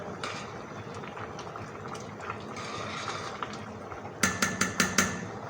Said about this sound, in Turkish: Benim çorba kaynamaya başladı.